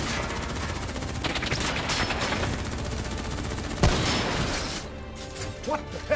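Sustained automatic gunfire in the Call of Duty: Black Ops III video game, dense rapid bursts filling the whole stretch, with a sharp heavier crack near the middle before the firing thins out.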